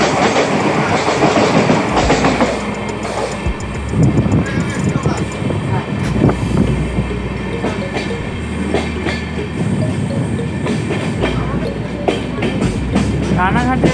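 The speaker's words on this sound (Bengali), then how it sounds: "এখন আমরা ক্রসিং করছে এসি লোকাল ট্রেন রানাঘাট দিয়ে" An AC local electric train crosses alongside at Ranaghat station, a loud sustained rumble with rhythmic clickety-clack of wheels over rail joints, heard up close from another moving train.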